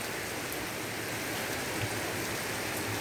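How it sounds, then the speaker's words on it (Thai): Heavy rain pours down in a dense, steady hiss with no pauses, loud and close, with no voices. "ได้มีฝนกระหน่ำลงมา"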